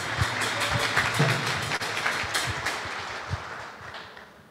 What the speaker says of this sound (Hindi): जोरदार तालियों से हम वेलकम